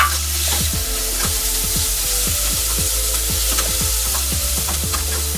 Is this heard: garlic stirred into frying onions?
yes